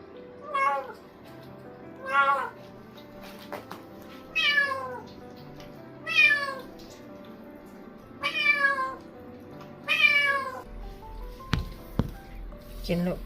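Abandoned stray kittens cry and meow repeatedly in a steady series of high, wavering calls, close by, with soft background noise and a low thud near the end.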